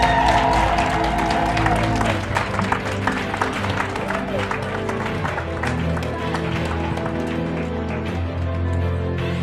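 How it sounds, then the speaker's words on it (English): Audience at a leadership celebration event giving a standing round of applause: dense, steady clapping from many hands that fills the room for the whole stretch, with a voice briefly audible at the start. "Let's just stand up and just give her a round of applause."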